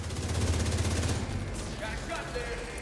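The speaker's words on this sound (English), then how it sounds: "I'll empty a mag there." A magazine emptied in rapid automatic fire in a shooter game, dense loud bursts for about a second and a half, then fading into softer game effects.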